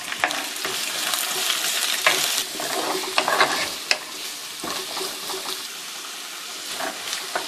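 Halved large onions and shallots sautéing in a pan for Kerala beef curry, a steady close sizzle with scattered scraping stir strokes and small pops, no voices.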